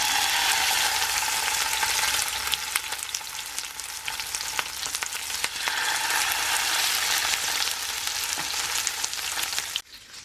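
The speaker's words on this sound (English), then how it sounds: "I've got a pan here which is nice and hot, and I'm just going to add my salmon to this" Salmon fries skin side down in a hot pan, giving a loud, continuous crackling sizzle up close that ends abruptly near the finish.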